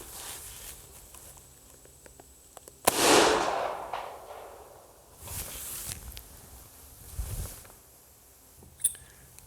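A rifle fires cast lead bullets outdoors in a single sharp report that fades into a rolling echo, followed by faint shuffling and soft handling noises, with nobody speaking.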